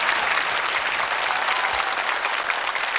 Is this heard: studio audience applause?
yes